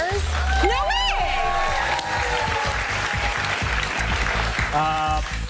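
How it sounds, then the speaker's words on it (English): A game show studio audience applauds loudly and continuously, with a few voices and laughter rising over the clapping. "Hold your applause."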